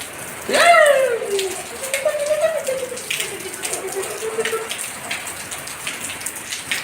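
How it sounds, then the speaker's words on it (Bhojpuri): Steady rain patters and splashes close by, while a gliding tonal whine rises and falls over the first few seconds. "दिल्ली में खूब बढ़िया बारिश होता"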